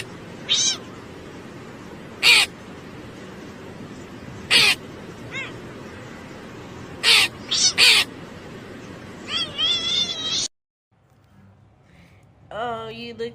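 A cat meows in several short, sharp bursts spaced a couple of seconds apart over a steady background murmur, then a drawn-out cry. After a brief hush, one last meow comes through.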